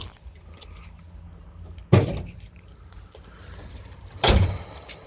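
Two solid door clunks from a 1971 Oldsmobile Ninety Eight a couple of seconds apart, each with a brief rattle, over a quiet idling background.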